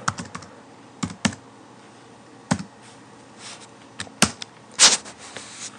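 Someone types on a computer keyboard, producing scattered clicks and short bursts of key taps at an uneven rhythm, close and fairly quiet with no voice.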